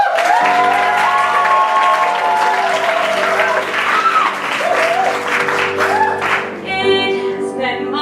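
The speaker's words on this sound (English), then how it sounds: "The audience roars with applause." A theater audience at a stage musical performance roars with sustained, loud applause and cheering for about eight seconds, with scattered voices and some musical tones mixed into the clapping.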